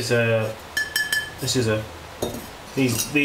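Bisque-fired clay pots clink and knock against each other as they are unpacked from a kiln, producing sharp, irregular ceramic taps in scattered clusters, with someone talking in between.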